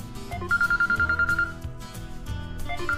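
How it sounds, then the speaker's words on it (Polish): A telephone rings with a fast repeated electronic trill lasting about a second, then rings again briefly, over low indistinct background noise on a chicken farm. "O, ktoś dzwoni,"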